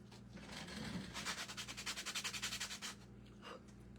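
A sanding sponge worked over scrap wood for a rustic craft piece, heard close up as a run of rhythmic back-and-forth scratchy rubbing strokes, about a dozen quick passes, then a few softer scuffs.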